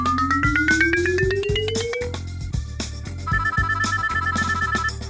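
A telephone ringtone plays during a call, rising tone sweeps followed by a repeating beeping pattern, over a steady thumping electronic beat, loud and continuous with no talking.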